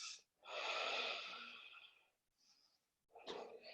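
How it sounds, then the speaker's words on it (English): Deep breaths during a yoga pose: a long, soft, airy exhale is followed by a faint pause, a small breath, and then another breath, all close and quiet with no speech. "2 more enormous breaths here"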